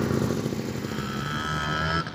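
A motorbike engine drones steadily while riding over red sand dunes in Unaizah, Saudi Arabia, loud and close with constant wind-like rumble and no talk.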